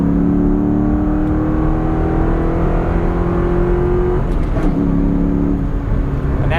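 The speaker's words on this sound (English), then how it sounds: "Exhaust, excellent exhaust note on this car." A loud, deep V8 exhaust from a 2004 Ford Mustang Mach 1 with an SLP Loudmouth catback exhaust rumbling steadily up close, with the engine note rising briefly in a rev toward the end.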